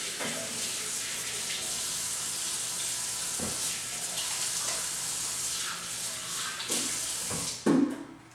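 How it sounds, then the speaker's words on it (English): Tap water runs steadily into a kitchen sink while hands are washed, a constant close hiss and splash with a few thumps and a louder clunk near the end, no talking. "Wash my hands real quick."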